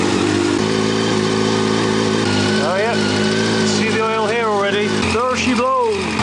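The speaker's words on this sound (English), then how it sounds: "turn on the engine, and then squeeze this bottle to force the oil down into the system" A Yamaha FZ1-N motorcycle engine runs at idle with a loud, steady, close drone throughout, while a voice sounds over it.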